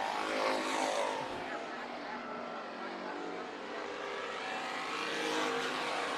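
Race cars roar around the track during a dirt-track heat race at Bakersfield Speedway, a dense, steady engine drone that holds loud throughout with a commentator talking over it.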